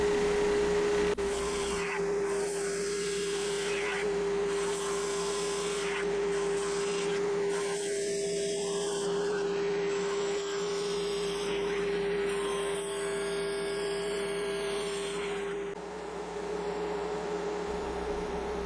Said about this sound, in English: Now we'll run the board through the drum sander to remove all the excess glue on both sides and make ourselves a flat board.